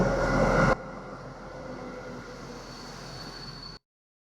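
A steady low rumble of a Polish train arriving at a station in Lithuania, loud rush at first then settling into a quieter continuous hum with a faint high whine.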